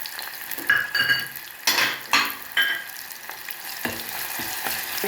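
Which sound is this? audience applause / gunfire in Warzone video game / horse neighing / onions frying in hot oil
onions frying in hot oil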